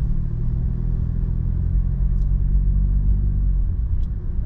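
A car moves along a village road with a steady low engine rumble and road noise, close and fairly loud, no talk, two faint brief high ticks.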